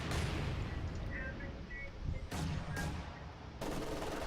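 Battlefield gunfire from the World War II strategy game Company of Heroes 2, with sharp bursts and booming mortar impacts cracking out at irregular intervals amid rumbling explosions, under a player's talking.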